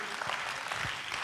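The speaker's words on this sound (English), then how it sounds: "Clap your hands to the Lord." A congregation claps during a Sunday morning church service led by a bishop. The clapping is a soft, diffuse patter of many hands, fairly distant and steady throughout, with faint transients poking through.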